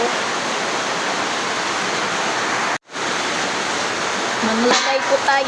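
Steady broadband rush of heavy rain fills the scene, with water dripping through a hole in a bedroom ceiling; a brief silent gap breaks it midway, and faint tapping drips and a soft voice surface near the end.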